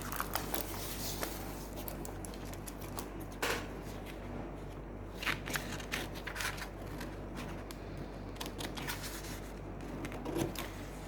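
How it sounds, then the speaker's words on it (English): Scissors snip paper close around an envelope, a series of quiet crisp cuts and rustles at close range spread irregularly over a faint steady background hum. "So I'm cutting as close as I can without actually cutting the envelope."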